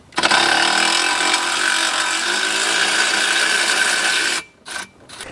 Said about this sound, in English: sometimes seatbelt bolts are super strong and like an electric ratchet won't do it.